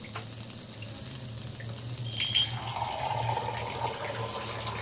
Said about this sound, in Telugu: వాటర్ అనేది యాడ్ చేసుకోవాలి.